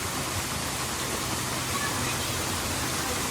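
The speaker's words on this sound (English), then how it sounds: "I love the waterfalls." Artificial waterfall at Disney's Animal Kingdom theme park, a steady broadband rush of falling water, close and constant, with no voices over it.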